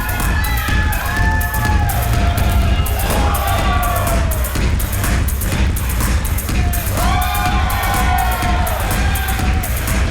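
A wrestling crowd at a live show in Ybor cheering and shouting in waves, with whoops and loud bursts rising over a dense, close roar of voices.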